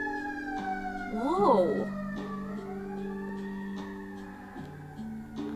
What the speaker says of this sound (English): There's like this crazy amount of like sirens and police sirens and ambulances.